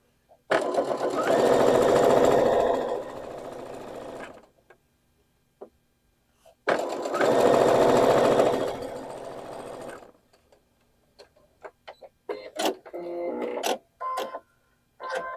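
A sewing machine stitches a nine-patch quilt block seam in two close, loud bursts of about four seconds each, separated by a pause, followed by clicks and light handling of fabric and tools.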